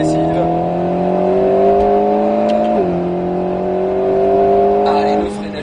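An Alpine A110 S accelerates steadily on a race circuit, its engine note climbing in a smooth sustained drone with a brief dip as it shifts gear, loud and close throughout.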